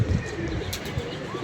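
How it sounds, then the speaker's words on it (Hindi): A pigeon coos softly at close range in a loft, a low, throaty murmur under faint background noise, with no talking. "ये कबूतर कौन सा निकाला मैंने"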